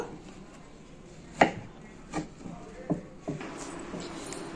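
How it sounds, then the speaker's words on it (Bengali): Knife chopping fried phulori fritters finely on a board, a few distinct cuts spaced over a few seconds against quiet room noise, with faint talk nearby. "প্রত্যেকটা ফুলুরি এরম ভাবে কেটে কেটে একদম কুচি কুচি করে নেব"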